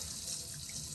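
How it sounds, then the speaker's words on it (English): Hot water runs steadily from a kitchen tap while dishes are rinsed in a sink, a continuous hissing stream at low, even volume with no talking. "Rinse it. Hot water, guys, hot water."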